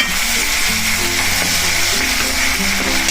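Green garlic and ginger-chili paste hit hot oil in a pan with cloves and asafoetida, giving a loud, close, continuous sizzle and crackle that lasts the whole time with no pauses.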